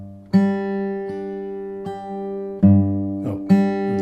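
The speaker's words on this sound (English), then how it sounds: "have the index finger pluck loud while the others plucked softly" Fingerstyle acoustic guitar notes plucked one at a time, the index-finger notes sharply accented and loud against softer plucks, about five clear attacks ringing out over four seconds with no talking.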